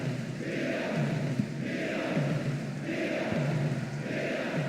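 Stadium crowd noise from the football video game PES 2009, during a Serie A match between AC Milan and Juventus, forms a steady roar with rhythmic chant swells repeating about every second.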